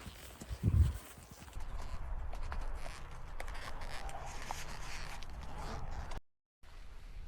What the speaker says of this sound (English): My sweet horse named Tequila keeps trying to stop to eat the sugar cane